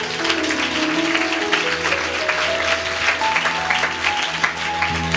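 A church congregation claps together during worship, making a dense, sustained wash of applause. The clapping is steady and moderately loud, and a faint tone carries along beneath it.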